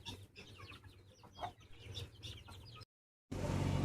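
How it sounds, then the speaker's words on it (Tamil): Guinea fowl foraging outdoors give scattered clucks and chattering calls, several overlapping at moderate distance, followed by a brief gap and then a burst of rough noise. "கின்னிக்கோழி மேய்ஞ்சிக்கிட்டு இருக்கு"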